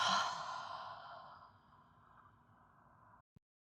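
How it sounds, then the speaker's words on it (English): A single slow breath drawn in through the nose during a guided breathing exercise, close and soft, fading gradually over a few seconds before a tiny click ends it. "Let's take a breath in through the nose."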